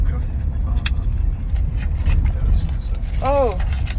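A rally car on a practice lap in Qatar, its engine droning steadily from inside the cabin, with people talking over the road noise.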